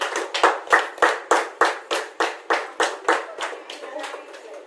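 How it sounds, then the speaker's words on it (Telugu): A birthday gathering claps together in a steady rhythmic beat, about a dozen sharp, evenly spaced claps close by that fade slightly toward the end. "చప్పట్లు కొట్టండి అందరు కూడా"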